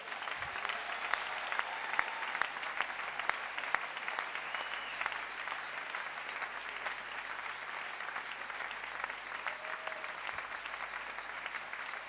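A church congregation applauds and cheers in acclamation of God, a steady broad wash of clapping from a crowd filling the room at moderate level for the whole stretch.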